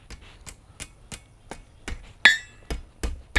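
A hammer strikes a heated metal rod, flattening a quick taper for a hummingbird feeder hook: sharp, evenly spaced ringing blows about every half second, close and loud, one especially bright clang partway through.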